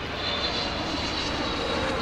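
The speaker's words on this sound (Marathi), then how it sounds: "इकडं तर तुम्हाला विमान पाहायला भेटेल खाली उतरताना." An airplane coming down to land at a Dubai airport produces a steady, broad engine roar, moderately loud and unbroken.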